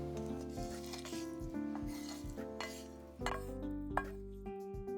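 Minced meat is mixed into mashed potato in a bowl for Japanese croquettes, heard as repeated soft scraping and stirring strokes with utensil clinks, close and fairly quiet against a steady background hum.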